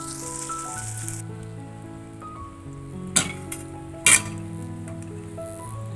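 A lemon mixture is poured from a pan into cooked rice, giving a faint soft sizzle and scrape with a couple of sharp metallic clinks of a utensil against the vessel, no talking.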